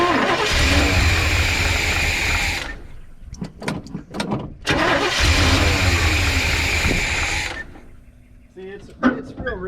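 A 1985 GMC C25 pickup's engine cranks and fires twice, each time running loud and rough for a few seconds before cutting out, with short bursts of cranking between and after, heard close up.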